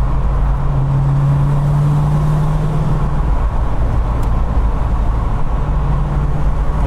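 A 1993 Ford Mustang LX 5.0 drives steadily in fifth gear, its low engine drone and road roar loud and constant, with a faint rising tone early on.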